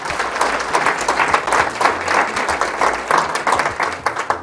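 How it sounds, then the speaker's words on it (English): Applause from an audience at a genealogy day session, a steady dense patter of many hands clapping close by for the full few seconds, with a few faint voices mixed in. "let's give him a warm round of applause"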